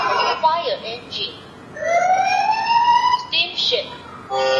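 A fire engine siren from a children's electronic talking book plays as a single rising, sustained wail lasting over a second. Brief synthetic spoken phrases come on either side.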